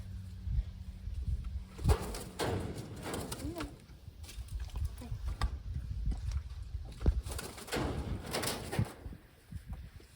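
Bird calls from a crow flying back and forth overhead during a fawn rescue outdoors, repeated cooing and cawing notes over low rumbling background noise, with scattered knocks and movement throughout.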